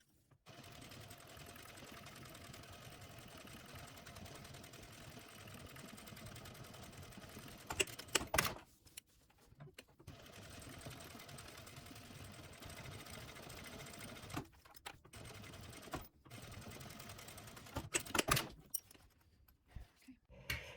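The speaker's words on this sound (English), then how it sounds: "now we are gonna top stitch alongside the zipper on both sides" A sewing machine top-stitches fabric alongside a zipper in steady sustained bursts, its rapid mechanical whir broken by a few short pauses and clicks between runs.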